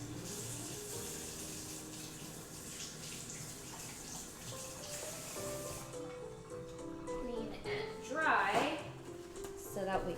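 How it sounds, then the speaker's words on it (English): A whisk being rinsed under a running kitchen tap, a steady stream of water with a brief louder splash and spatter near the end as the whisk goes under the flow. "I'm going to rinse this for a clean whisk."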